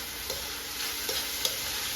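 Garlic fries in a pan with a steady close sizzle, while a utensil stirs it with a few soft scraping taps.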